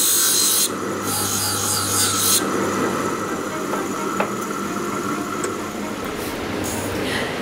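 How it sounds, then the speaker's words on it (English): A metal filing machine in a cutlery factory shapes fork tines, giving a steady, harsh rasping scrape over a continuous mechanical hum, with a louder hiss at the start and brief sharp ticks throughout. "This is a filing machine. It cuts off tiny bits of metal to make the fork pointy."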